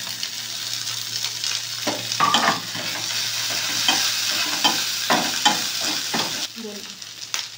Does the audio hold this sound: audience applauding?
no